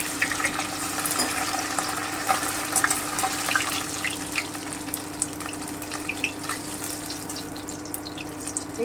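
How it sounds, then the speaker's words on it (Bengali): Piyali fish frying in a hot wok, a steady broadband crackle and sizzle of oil running throughout with small pops and spatters, fairly close and continuous with no voices. "এইভাবে আমি পুরো মাছটাকে ভেজে নিচ্ছি।"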